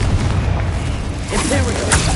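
Heavy booming blasts from a Bombarda explosion spell cast in a video game, dense and loud throughout, with a sharper burst near the end and a voice speaking underneath.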